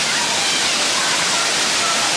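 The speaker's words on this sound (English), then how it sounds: "I do love the waterfall, but there's a lot of people" A waterfall at a busy hiking spot pours steadily, a dense, even broadband rush of falling water filling the whole clip without pause.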